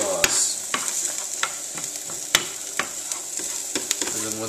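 Carrots sizzle in a stir-fry pan, a steady close frying hiss broken by repeated sharp clicks and scrapes of stirring, with no talking.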